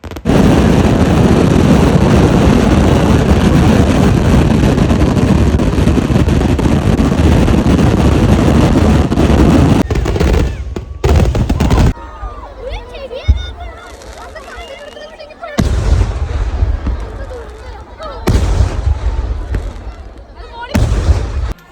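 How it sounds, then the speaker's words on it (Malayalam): At the Kattussery Vela temple festival, a fireworks display sets off a dense, continuous barrage of booming blasts and crackles, then breaks into separate heavy explosions with short gaps between them, loud and near, with voices in the crowd. "നമ്മുടെ വെടിക്കെട്ട് അങ്ങനെ തുടങ്ങി ഗൈസ്."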